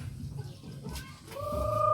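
Brief, throaty clucks from a chicken sound close by, a couple of short calls rising into a higher drawn-out note at the end.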